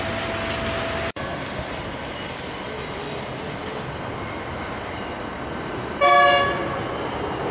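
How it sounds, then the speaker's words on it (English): A freight train at a rail junction construction site in Adelaide, Australia, heard as a steady distant rolling rumble, with a sudden brief horn blast near the end and no talk. "Here comes a freight train."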